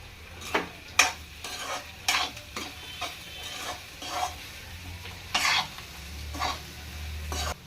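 Spiced potato fry being stirred in a pan, cumin and coriander powder and salt just added, with repeated scraping strokes over a low sizzle, close and alone.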